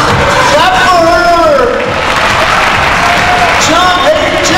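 Applause and cheering from a crowd in a school gym for a girl doing a fitness jump rope routine, a steady wash of clapping mixed with shouted children's and adults' voices.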